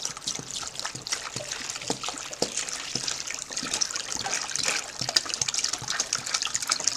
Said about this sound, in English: let me go ahead and pour some water in here